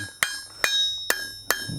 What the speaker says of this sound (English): if you use like a rounded face hammer, it might even create a little texture like my hammer right now